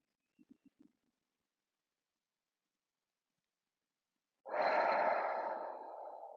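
Deep meditative breathing, a few faint soft puffs at first, then after a silence one long close airy breath that trails off slowly.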